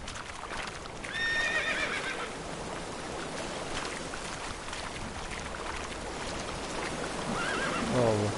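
Roach, a horse in The Witcher 3, whinnies loudly in a harmonic neigh early on and again at the end, over steady ambient game noise with hoof clops scattered throughout.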